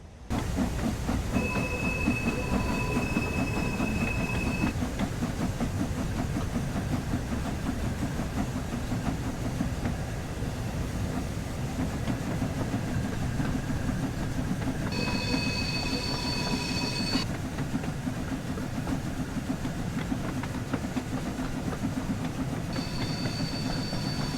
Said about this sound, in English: Climb aboard the locomotive and drive it to the stop marker.